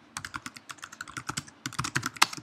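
Rapid, close keystrokes on a computer keyboard as a Sencha Touch 2 command is typed, an irregular burst of crisp clicks with short pauses and no voices.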